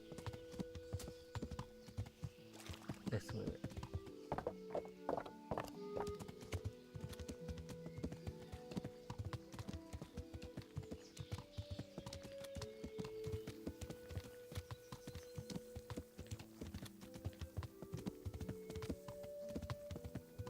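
Horse hooves clip-clop steadily in the medieval role-playing game Kingdom Come: Deliverance, a continuous rhythmic patter beneath game music, with a brief spoken line from a character.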